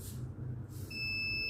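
A homemade motion detector circuit sounds its alarm: a high electronic beep begins near the end and holds steady over a low background hum, close and fairly quiet.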